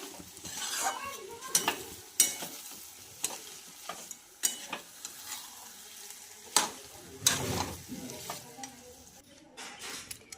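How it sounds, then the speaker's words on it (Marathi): A spoon stirs a cup of jaggery as it melts in a pan for lapshi, making repeated scraping strokes over a soft sizzle, each stroke distinct and close. "तर 1 वाटी गूळ आहे हा आणि छान असा वितळून होईपर्यंत मिक्स करायचा आहे।"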